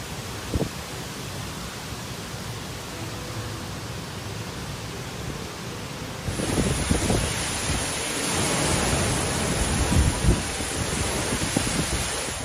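Typhoon Nanmadol's gale winds and high waves on Kyushu, Japan: a steady broadband roar of wind and surf that grows louder and harsher halfway through, with gusty buffeting and occasional low thumps, and no voices.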